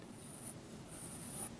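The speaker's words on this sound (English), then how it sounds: "I just sketch in a basic shape." Pencil sketching out the basic shape of a portrait, a quiet scratchy rub of graphite on paper in two soft strokes, close and faint with no talking.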